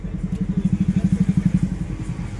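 A Toyota Qualis engine with a leaking clutch cylinder runs in first gear on the way to a garage, a close, low, rhythmic chugging throb that pulses steadily and then eases off.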